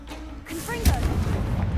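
A Confringo explosive spell from Hogwarts Legacy goes off as a single heavy boom with a rolling rumble after it, following a brief voice.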